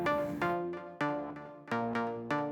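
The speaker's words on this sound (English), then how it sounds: "I've got some crystals on A going into a filter pong," Eventide H90 pedal with a crystals preset feeding a filter pong effect: bright, shimmering harmonic tones with sparkly repeats, swelling in four distinct plucked attacks that ring and decay, close and moderately quiet with no talk.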